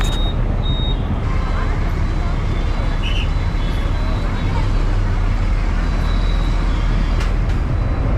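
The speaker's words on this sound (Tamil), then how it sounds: "அடுத்ததாக பஸ் இப்போ நிற்கிறது" Steady roar of a bus engine with road and traffic noise throughout, heard from inside as the vehicle idles and slows at Chellammal College bus stop in Chennai, with a faint murmur of voices.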